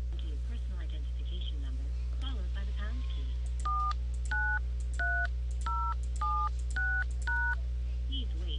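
Telephone keypad dialing tones as a number is called, a quick run of about seven clear dual-tone beeps at an even rhythm following a stretch of talk, over a constant low hum.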